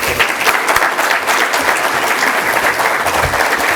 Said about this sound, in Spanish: diputado Ramiro Ramos Salinas, para quien pido un fuerte aplauso.